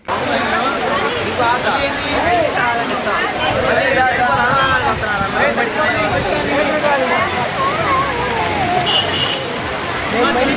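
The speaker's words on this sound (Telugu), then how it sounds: "ఇప్పుడే వర్షం స్టార్ట్ అయింది ఫుల్ వర్షం పడుతుంది పెద్ద వర్షమే" Heavy rain pours steadily outdoors at a crowded Ganesh festival food distribution, a dense continuous hiss with people talking and murmuring throughout.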